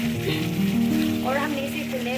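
Korma meat sizzling in a karahi after pressure-cooking, with a steady, close frying hiss and crackle that continues throughout.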